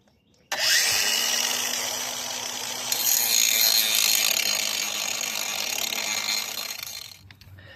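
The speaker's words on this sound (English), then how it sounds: "I got a grinder with one of these metal grinding bits" An angle grinder fitted with a metal grinding bit, used during car wheel repair work on a Ford Focus, whines loudly and steadily for about seven seconds close by, with slight changes in pitch as it bears on the workpiece.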